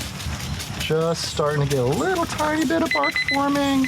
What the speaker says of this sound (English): That's our alarm telling us we shouldn't have our lid open.